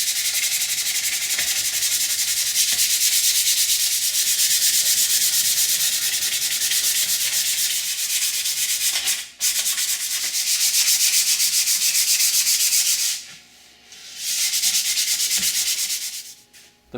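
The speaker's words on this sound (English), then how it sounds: "then sanding off the fuzzies that result" Hand sanding a wooden child's rocking chair after wetting it to raise the grain, a continuous close scratchy rubbing with brief pauses as the sandpaper lifts and resumes.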